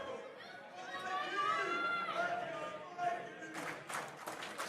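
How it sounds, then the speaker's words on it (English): Wrestling crowd booing heel Slim J at an AIW independent show, a steady mass of jeers and chatter with scattered claps, plus a commentator talking over it. "Now booing the crowd as they boo him"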